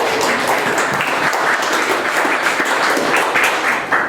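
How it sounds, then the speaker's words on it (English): An audience at a 1 Million Cups startup pitch event applauds loudly and steadily, a dense wash of many hands clapping close by for several seconds. "Clap, guys."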